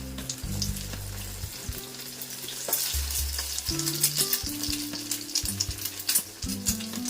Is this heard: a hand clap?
no